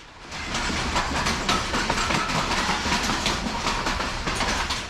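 A locomotive hauls a long train past nearby in Pakistan, with a steady roar and repeated clickety-clack of wheels over the rails.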